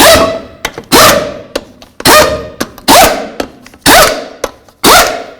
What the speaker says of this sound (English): We're going to put on all the lug nuts. We're going to snug them up in a crisscross manner.